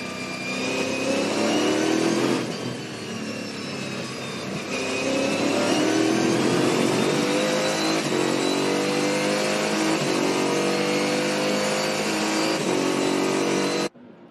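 A race car engine roars from onboard at Winton Motor Raceway, revving high and dropping sharply with each quick paddle-shift transaxle gear change, climbing again through the revs over a steady loud drone.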